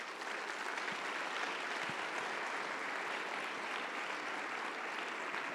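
A church congregation applauding during a Sunday sermon, a steady, even wash of many hands clapping at a distance, soft and continuous with no voices over it.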